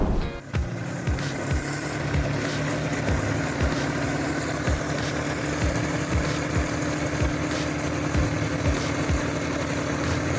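A John Deere 8400T tractor with a six-cylinder engine of about 225 to 235 horsepower labours through deep mud, its engine a loud, steady drone with regular rhythmic knocks and clanks running throughout.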